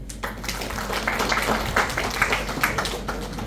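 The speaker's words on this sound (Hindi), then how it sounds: "सभी के लिए जोरदार तालियां" Audience applause at a business automation seminar, a steady stream of many hands clapping at moderate volume, continuing alone for several seconds without talk.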